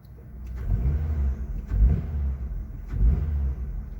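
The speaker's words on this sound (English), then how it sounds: "So I'm just barely going to touch the gas." Car engine fitted with a Roar Pedal throttle controller in a very touchy race mode, giving three soft, quick rev blips from a low rumbling idle, close and steady, with no talking.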